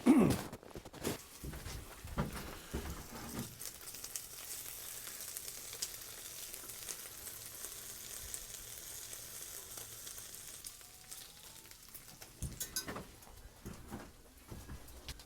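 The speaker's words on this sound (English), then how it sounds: "Well, I think the bacon's done there now." Bacon fries in a pan inside an ice-fishing shack on a frozen lake, a low steady sizzle running throughout with a few louder knocks and clatters at the start and end.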